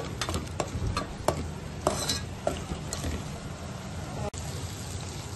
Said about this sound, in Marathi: कांदा व्यवस्थित फ्राय झालेला आहे, बघू शकता तुम्ही.